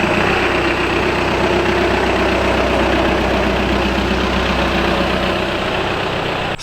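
A VW Golf MK6 engine idles steadily and close by with a constant low rumble, pulling out of a garage, with no talk over it.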